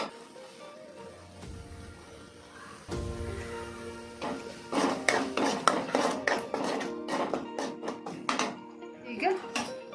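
Wheat-flour pasta goes into a pan with coriander, bringing a run of sharp metallic clinks and scrapes of utensil against cookware, close and fairly loud, while a voice talks over part of it.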